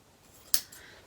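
Scissors cut a length of ribbon for a floral arrangement with one crisp, close snip in an otherwise quiet moment.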